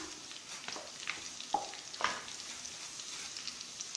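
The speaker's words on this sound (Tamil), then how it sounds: "வெங்காயம் வந்து நல்லா வதங்கணும்" Onions sauté in hot butter and refined oil for an egg keema gravy, a steady soft sizzle broken by a few brief scraping stirs, fairly quiet and close, with no talk.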